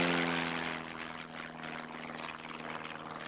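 A Jaguar jet aircraft spins intentionally during a flight test, a steady loud engine drone with whining tones that fades slightly after the first second and then holds.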